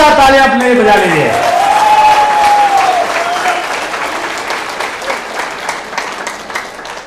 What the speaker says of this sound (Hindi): और जोरदार तालियां अपने लिए बजा लीजिए।